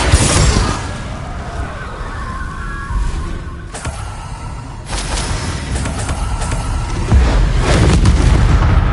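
Confringo fire spell blasts in the video game Hogwarts Legacy, loud booming explosions with crackling bursts that repeat over several seconds, dense and close with sharp hits near the middle.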